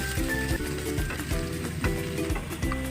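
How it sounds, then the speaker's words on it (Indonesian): Dried chili, cloves, cardamom and ginger sauté in hot oil for a beef madras, giving a steady close sizzle broken by a few louder stirring scrapes. "Nah, ini akan kita tumis dulu sampai harum."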